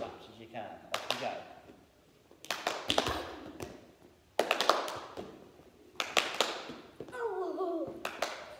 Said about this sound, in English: So you have to think, throw, clap, catch.